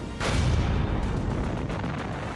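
Huge battleship cannons fire with a deep rumbling boom that rolls out and lingers, heavy low-end blast followed by sustained thunderous reverberation.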